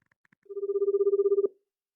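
A telephone ringing tone sounds once as a steady electronic pulsed burst lasting about a second, clear and alone in an otherwise quiet room.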